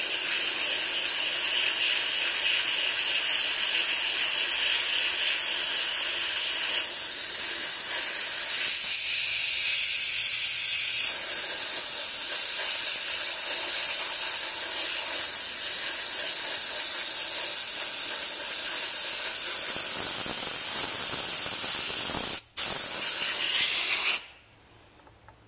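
Compressed air from a spray gun blasts steadily through the head of a squeeze bottle during cleanup after Cerakote heat-cure H-series coating, a loud continuous hiss lasting over twenty seconds before cutting off abruptly.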